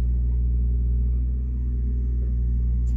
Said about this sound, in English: I was hoping to get into the studio early this morning before the excavator started